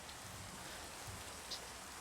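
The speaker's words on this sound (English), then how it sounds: "It's still raining. It is still raining." Rain falls steadily in the video game Minecraft, a soft continuous hiss of drops with no talking and no other sounds.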